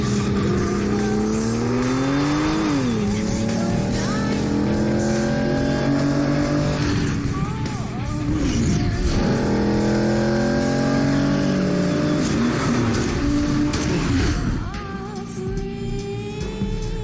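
Car engines roar through a James Bond video game car chase, revving up and down in long sweeps with tyre squeals and passing vehicles, loud and continuous over game music.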